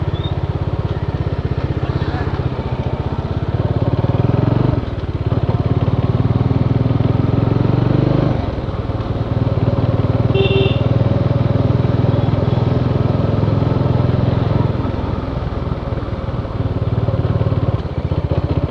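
A Bajaj Dominar 400 motorcycle engine drones steadily and loudly throughout a ride, with deep low-end rumble and slight rises and dips in engine speed, heard close as if from the rider's position.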